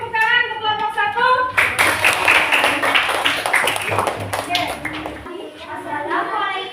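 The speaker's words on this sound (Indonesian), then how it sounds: "Beri tepuk tangan untuk kelompok 1" Students in an elementary classroom clap together for the first group, a burst of rhythmic hand clapping that starts after a moment of children's voices and runs for several seconds before tapering off.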